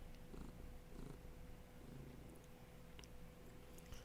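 A pet cat named Pippin purrs on a lap, a soft, continuous low rumble that stays steady throughout with no talking over it.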